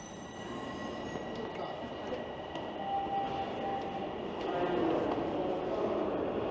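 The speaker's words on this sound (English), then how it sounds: "I think a southbound train is pulling in right now" A southbound subway train pulls into Sheppard-Yonge Station in Toronto: a steady, moderately loud rolling rumble with a thin wheel squeal that swells gradually as the train arrives, over faint station ambience.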